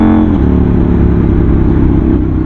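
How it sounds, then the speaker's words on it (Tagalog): A KTM Duke 790 motorcycle exhaust roaring hard under acceleration, a loud, steady, gritty engine drone heard close from the rider's position, with no talking over it. "ang lakas yung tambucho, grabe"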